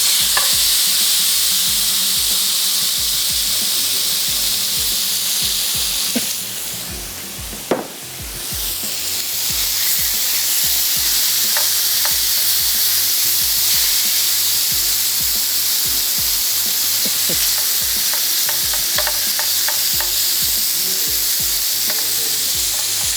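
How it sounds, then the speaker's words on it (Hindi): Chicken sizzles loudly on a hot grill pan, a dense, continuous frying hiss close up, briefly dipping once as pieces shift, with light crackles and no talking. "चिकन को भी हमने ग्रिल पैन में अच्छा सा ग्रिल कर लेना है"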